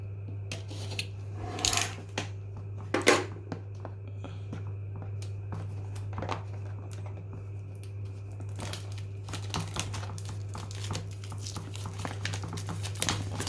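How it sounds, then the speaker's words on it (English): Plastic wrapping pulled from the box of a Xiaomi Mi Vacuum Mini cordless vacuum cleaner: scattered crinkles and rustles, a few sharper crackling bursts near the start, then softer intermittent handling under a steady low hum. "So taking out all the plastic."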